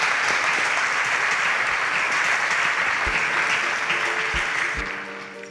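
Studio audience at a televised science competition claps for a departing contestant, dense steady applause with a few low thumps near the end as it begins to fade.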